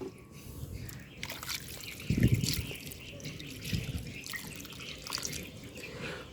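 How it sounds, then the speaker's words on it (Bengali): Water is poured into a potted lotus plant, giving soft trickling and dripping splashes with a few louder gushes, fairly close and quiet. "তো এখান থেকে আমি এবার জল দিয়ে দিচ্ছি।"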